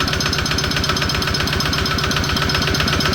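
A Kawama 155 New Plus diesel engine runs loud and close, its rapid, regular chugging thump steady throughout with a rough mechanical clatter on top.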